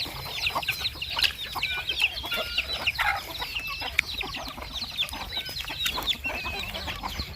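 Several chickens cluck and chatter continuously nearby, with short squawky calls overlapping through steady outdoor background noise.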